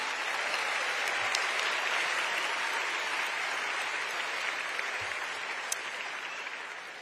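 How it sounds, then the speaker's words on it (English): Sustained applause from a large audience at a high school graduation ceremony, dense and even clapping that holds steady for several seconds and fades slightly near the end. "Yeah, you can give them a round of applause."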